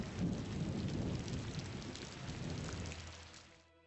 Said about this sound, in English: And the rain's on.